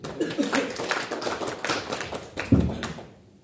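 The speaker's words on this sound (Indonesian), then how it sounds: "Kita beri aplaus untuk Pak." An audience at a working meeting in Pontianak, West Kalimantan, claps in a brief, scattered round of applause that swells slightly, then fades out.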